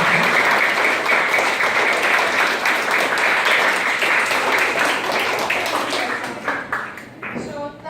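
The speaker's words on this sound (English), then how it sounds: "can we give Garv a round of applause?" Loud, steady applause from a school audience for a student speaker, a dense wash of clapping that thins and fades toward the end.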